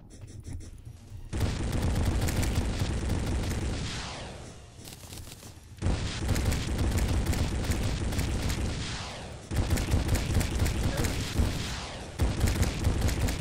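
Missiles exploding in modded Terraria during a giant worm fight: dense, continuous volleys of loud, crackling blasts in three long waves, each broken by a short lull.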